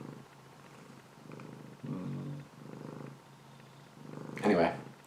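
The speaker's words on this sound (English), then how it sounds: "I might as well show you guys my cat." A cat purrs close up in a slow, rhythmic series of rumbling pulses, roughly one each second, ending with a brief higher meow-like sound.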